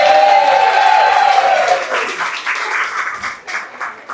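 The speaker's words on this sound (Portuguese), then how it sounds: "Salva de palmas aí para eles, pessoal." Audience applause for team members Luiz and Robson at a company event, dense clapping with a sustained tone at first, then uneven bursts of claps that thin out toward the end.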